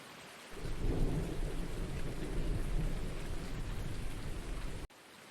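Rain falls steadily in the evening while thunder rumbles low and heavy, a broad, continuous roar that swells early, then drops off abruptly near the end.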